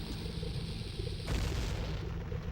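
A bomb goes off inside Dodongo's Cavern in Zelda: Ocarina of Time, a deep rumbling boom that swells abruptly midway over a steady low background hum.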